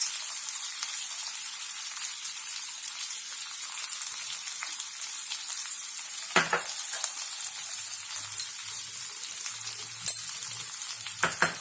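Potatoes frying in a pan after sugar and salt are added, a steady soft sizzle throughout with a few brief stirring scrapes near the end, no talking.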